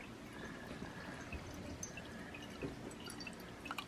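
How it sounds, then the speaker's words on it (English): Filtered water drips from a homemade purifier in faint, sparse drops and a soft trickle, heard close but quietly over low room noise. "See, it's dripping down in there?"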